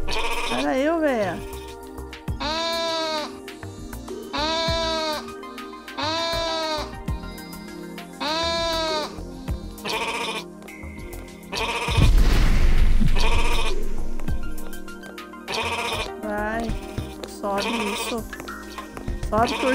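Sheep bleat repeatedly and close, a string of wavering cries across the stretch, mixed with a burst of rumbling noise near the middle and scattered background activity.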